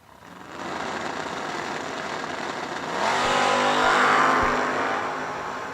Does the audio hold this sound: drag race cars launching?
yes